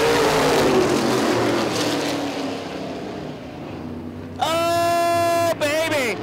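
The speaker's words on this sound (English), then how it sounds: "Gonna get him the green flag. We're gonna be off and racing." Open wheel modified race cars at New Paris Speedway roar past as the race starts, a loud rumbling engine wash followed by a high, rising multi-engine whine, under steady excited commentary.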